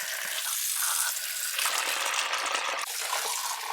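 Cold water runs from a tap over skinned squirrels, a steady loud gushing splash with small shifts in the flow, and no talk.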